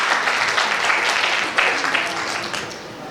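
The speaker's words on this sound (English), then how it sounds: "Let's give him a big round of applause." Audience applause welcoming a speaker at a Moodlemoot Philippines conference session, a dense steady wash of many clapping hands lasting throughout, fairly loud and close with no talk over it.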